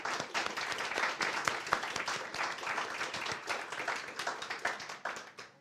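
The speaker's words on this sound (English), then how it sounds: "A round of applause for Fiona" Applause from a ceremony audience at a children's book award event welcoming Fiona Herbert, a steady patter of many hands clapping at moderate distance, fairly even throughout and tapering slightly at the end.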